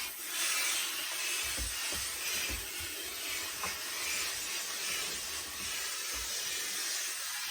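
Steady hiss of a steamer worked around a handmade cattleman-crease hat on a wooden brim block, continuous and close, with faint rubbing and soft knocks underneath.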